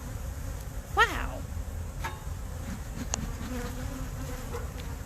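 Angry honey bees swarm around an opened, aggressive hive, their dense insect buzz rising and falling close to the listener over a steady hum, with a louder buzzing pass near the start.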